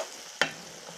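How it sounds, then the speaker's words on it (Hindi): Achari bhindi (okra) with yogurt stirred in a pan, one quick spoon scrape standing out over a soft continuous sizzle. "इसको हिला दूँगी।"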